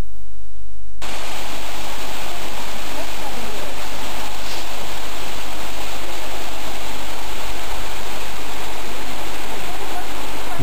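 Steady, loud rushing of waterfalls and cascades between lakes at a Croatian lakeside park, continuous broadband roar throughout after a brief quiet start.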